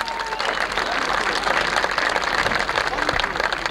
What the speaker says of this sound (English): A big round of applause for John Olson.